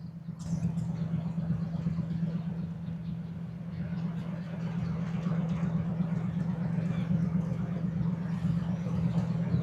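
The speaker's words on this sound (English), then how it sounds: "Hear that big old diesel engine rumbling away." A large cargo ship's diesel engine drones in a deep, steady continuous rumble, fairly quiet and distant, with faint background noise and no clear speech.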